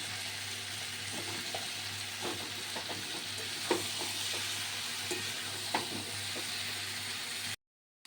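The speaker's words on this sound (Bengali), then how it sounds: "এবার আমি এর মধ্যে লাউ কেটে রেখেছিলাম ছোটো ছোটো করে, লাউগুলো দিয়ে দেবো" Chopped bottle gourd tossed into a pan of potatoes frying in oil with turmeric. A steady close sizzle is broken by light scraping stirs and soft knocks, then cuts off abruptly.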